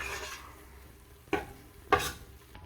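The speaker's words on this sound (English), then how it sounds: "Make sure that you continually stir it." A spoon stirs a dark roux for chicken and sausage gumbo in a pan, a low sizzle underneath with two distinct scraping strokes across the bottom.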